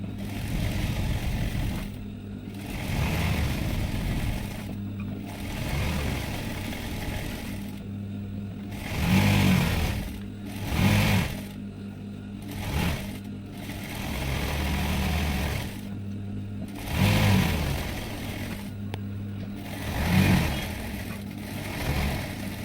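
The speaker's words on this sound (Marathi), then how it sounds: "आपल्याला साईडने शिलाई मारून घ्यायचं आहे" Domestic sewing machine running in short bursts while stitching the side seam of a blouse, a steady mechanical whir that starts and stops repeatedly at close range, with loud clacking pulses between runs.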